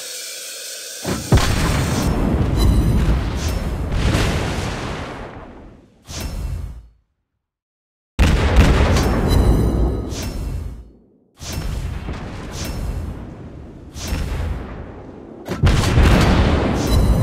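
Loud booming explosions and cannon fire from naval combat in World of Warships Blitz, featuring a Tier 2 Netherlands light cruiser Gelderland: repeated heavy blasts with whooshing tails, separated by brief gaps and one short silence.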